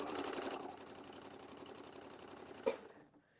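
A home sewing machine stitches a quilted holiday wreath, running steadily with a fast mechanical rattle for nearly three seconds, then a sharp clunk as it stops and falls quiet.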